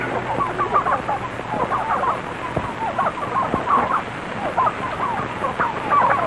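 Farm poultry, a flock of turkeys, keep up a busy chorus of clucking and gobbling calls with a few sharp knocks, steady and fairly close throughout.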